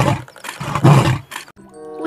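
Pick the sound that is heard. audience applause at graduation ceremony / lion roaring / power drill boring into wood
lion roaring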